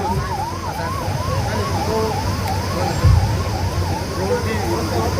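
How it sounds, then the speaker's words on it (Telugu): An Advanced Life Support 108 ambulance siren wails loudly in a fast, rising-and-falling yelp, continuous over a low rumble of traffic. "one zero eight advanced life support ambulance"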